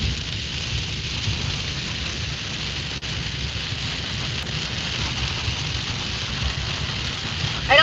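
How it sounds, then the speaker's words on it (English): Heavy rain drumming down during a storm chase, a loud, steady downpour with a sharp crack near the middle, no speech heard. "I don't like this rain."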